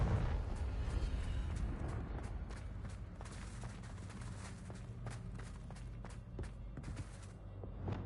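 The Confringo explosive spell being cast in Hogwarts Legacy, heard as a rumbling, booming blast with a trail of crackling bursts and thumps that fades gradually, fairly quiet overall.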